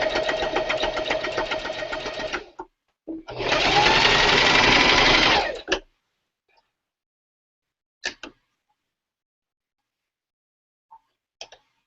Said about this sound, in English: I'm going to go ahead and sew it down with a 1/4 of an inch seam allowance